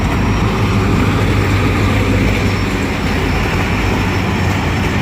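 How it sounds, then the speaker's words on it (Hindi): The 17 Up Millat Express hauled by an HGMU30 diesel locomotive rumbles loudly and steadily into a station, a dense continuous roar with no talk over it. "ये आ रही है 17 अप मिलत एक्सप्रेस HGMU30 के साथ"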